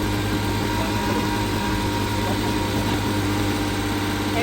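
A freshly rebuilt car engine at its first start, idling with a steady low rumble and a constant mechanical hum and whine, close and loud, running evenly with no voices.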